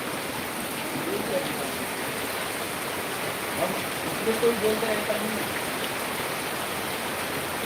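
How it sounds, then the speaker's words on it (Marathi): Heavy torrential rain pours down over open farmland, a dense, steady roar of falling water with no break, loud and even throughout. "मखमालाबाद शिवारमध्ये मुसळधार पाऊस चालू आहे"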